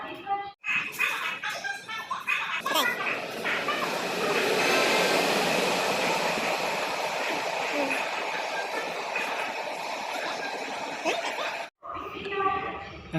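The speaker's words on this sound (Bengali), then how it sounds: "আমাদের ট্রেন ছেড়ে দিল মালদা টাউন স্টেশন থেকে।" A passenger special train pulls out of Malda Town station with steady rumbling and hissing rail noise. The sound builds and holds at close range, with some station and voice sounds mixed in near the start and end.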